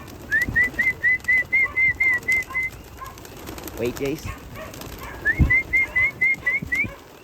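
Pigeons called in with a series of rhythmic human whistles, repeated in two bursts, while birds coo and flutter nearby and people talk briefly in the background.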